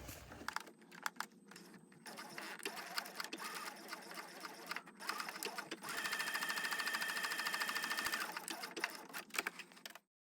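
A sewing machine stitches a lining seam in steady bursts, stopping briefly in between, then running in one longer continuous stretch before cutting off.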